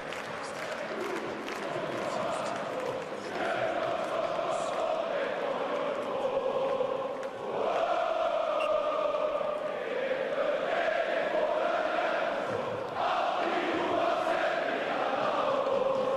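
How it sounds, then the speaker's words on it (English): Ice hockey crowd at the Ericsson Globe after a Djurgården goal against Skellefteå in a playoff semifinal, a loud, continuous roar of arena chanting and clapping that swells in waves and fills the whole stretch. "this crowd here inside the Ericsson Globe has absolutely come alive with that goal for Djurgården. On their feet, chanting and clapping away"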